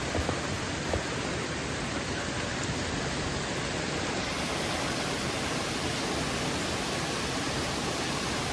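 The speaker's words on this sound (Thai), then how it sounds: "อย่างที่บอกมันอยู่ติดน้ำตกจริง" A waterfall roars nearby as a dense, steady broadband rush of water, unbroken throughout and fairly quiet overall.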